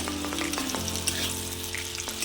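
Green and dried chillies frying in a pan, a steady close sizzle with a few sharp spits and pops and faint scraping, no talk.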